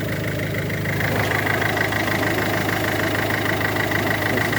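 Peugeot 5008 1.6 HDi 110 hp diesel engine idling after an oil change, a steady close rumble with a faint knocking texture running unbroken throughout, no talk.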